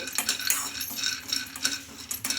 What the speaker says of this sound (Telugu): ఈ పల్లీలు అయితే బాగా వేయించుకోవాలి ఇంకా పల్లీలు అయితే ఇలా వేయించుకోవాలి